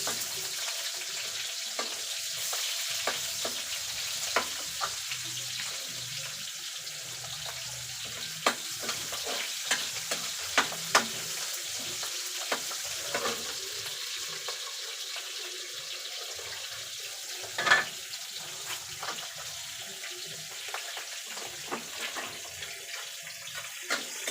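Garlic browning in a pan with onions just added, giving a steady soft sizzle and fry with scattered clinks and stirring scrapes, one louder knock near the middle, and no talking.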